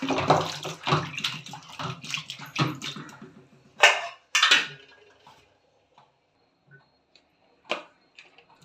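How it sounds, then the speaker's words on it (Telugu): Cut vegetables washed under running water in a kitchen, a splashy rinse with clattering handling for about four seconds, then a few isolated knocks and drips in near silence. "ఇది కట్ చేసుకున్నాను. వాష్ చేసుకోవాలి."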